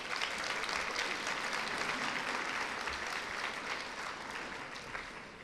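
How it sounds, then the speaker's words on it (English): An audience at a King County behavioral health legislative forum gives the judges a steady round of applause, dense many-handed clapping that stays loud and even and then tapers slightly at the end, with no voices over it. "Give them a round of applause."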